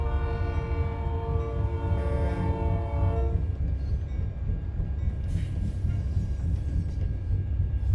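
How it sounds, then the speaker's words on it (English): A freight train in the American Truck Simulator game sounds a loud, sustained multi-tone horn blast that cuts off partway, leaving the continuous rumble of the passing train. "Also, apparently a train."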